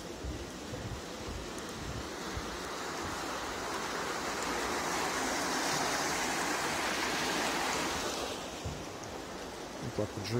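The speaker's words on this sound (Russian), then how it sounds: "Здесь тоже шумит река." A river rushes past in a canal through old Augsburg, a broad steady roar of flowing water that swells slightly midway, with faint voices and footsteps underneath.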